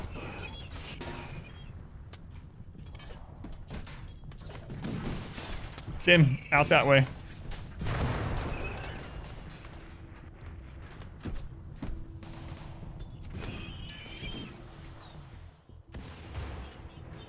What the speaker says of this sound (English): I hear gunshots from us.